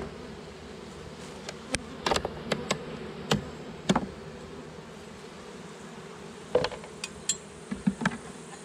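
Honeybees buzz in a steady, close hum from an open hive with a thinned-out colony during an inspection, broken by scattered sharp clicks and knocks of frames being handled.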